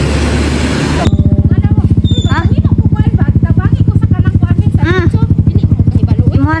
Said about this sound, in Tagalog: So, ayan na po yung motor namin.